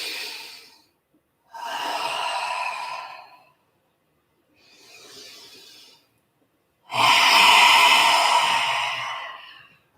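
Forceful yoga breaths during a vinyasa flow, exhaling with the tongue out: a short exhale, then a long one, a quieter breath and a final loud, extended exhale, each separated by silence, with no talking.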